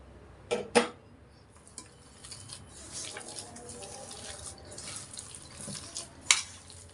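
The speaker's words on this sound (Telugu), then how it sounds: "కొంచెం కొంచెంగా వాటర్ వేసుకుంటూ కలుపుకోవాలి" Water is added bit by bit to Mysore bonda batter and stirred in a bowl. Faint wet mixing sounds carry a few sharp clinks of a utensil against the vessel, all close and quiet with no talk.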